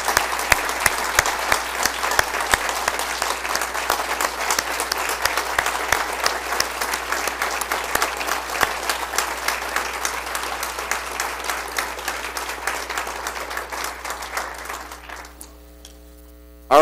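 At a township presentation, an audience gives a guest a round of applause, many hands clapping steadily for about fifteen seconds over a low electrical hum, tapering off and dying away near the end.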